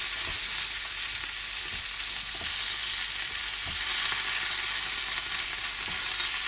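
Vegetables, including carrots, fry in a pan with a steady, even crackling sizzle throughout, alone and without any voices.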